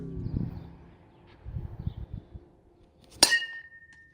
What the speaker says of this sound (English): That was the sound of my dad hitting a wiffle ball with a metal bat.